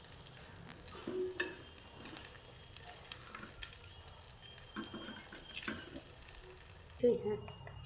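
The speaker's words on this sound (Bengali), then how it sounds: "এই যে ডিমটা ফাটিয়েছি, এটা আমি দিয়ে দিচ্ছি কড়াইয়ের মধ্যে" An egg frying in a pan, a quiet steady sizzle with occasional clinks of a utensil against the pan and a short sharper clatter near the end, faint speech in the background.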